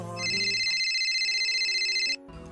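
A phone ringtone plays for about two seconds, a bright repeating melodic tone, clear and alone, cutting off abruptly before a softer musical bed resumes.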